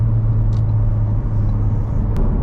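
A tuned Ford Focus RS accelerates onto a slip road, its engine a loud, steady, deep rumble that holds throughout with no talking.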